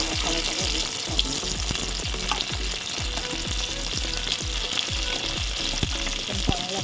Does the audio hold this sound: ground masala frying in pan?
yes